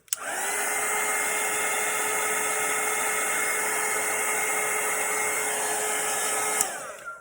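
Hair dryer blowing on wet watercolour paint, a loud steady high whine and rushing air running close and continuous for several seconds before switching off near the end.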